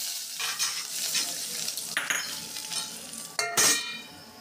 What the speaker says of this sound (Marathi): आता लालसर झालेलं आहे सगळं आपलं तडका छान, आणि तो आपल्याला द्यायचा आहे